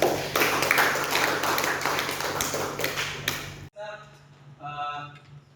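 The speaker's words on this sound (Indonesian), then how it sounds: "Tepuk tangan dulu untuk Irman." A class of students claps for a classmate after a classroom presentation, a loud burst of mixed claps over roughly four seconds that breaks off abruptly, followed by quieter room sound with a faint voice.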